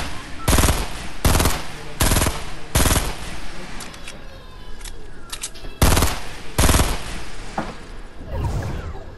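Loud, close bursts of automatic gunfire in a video game, several sharp volleys in an uneven rhythm with short pauses between them.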